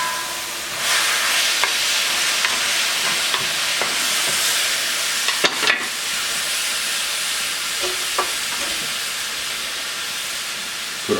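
Vegetables and sauce stirred in a wok for a stir fry, a steady steamy hiss and sizzle running throughout with occasional scraping clinks of the utensil, fairly close and alone.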